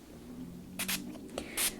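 Water-based color spray is misted from a spray bottle onto paper during card making: two or three short, close hissing bursts over a faint background hum.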